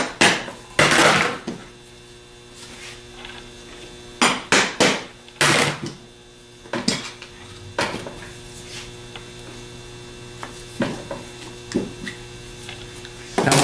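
Light hammer taps on a starter motor part to knock it loose, heard as a few scattered sharp metallic knocks, some in quick pairs, over a steady low workshop hum.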